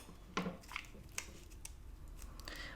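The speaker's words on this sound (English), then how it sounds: "Let's see if I trim it down more" Scissors trimming paper for a scrapbook layout, a few distinct close snips spaced apart over a low steady background hiss.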